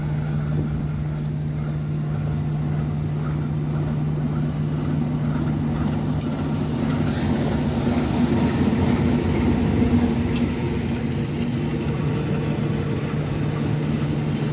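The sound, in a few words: Sawunggali train arriving at Perupuk station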